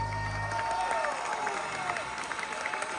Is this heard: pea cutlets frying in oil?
no